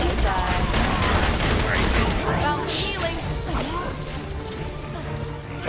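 Rapid gunfire from the video game Borderlands 2, dense overlapping shots and crashing impacts that stay loud and steady through the whole stretch, with a voice briefly heard over the action.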